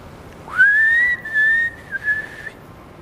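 A person whistles a melody, an Italian song, as a single clear sustained tone with a rising start, a brief break and a few short notes, close and fairly loud against a quiet background.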